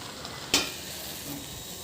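Sesame seeds, green chillies and tomato frying in oil for a gongura chutney, a low continuous sizzle with one sharp bright crackle burst early on, quiet and without talk.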